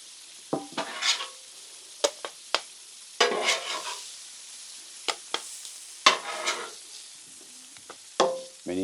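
Onions sizzle on a griddle, with a soft, steady frying hiss under repeated sharp scrapes and clacks of a spatula moving them across the hot metal surface.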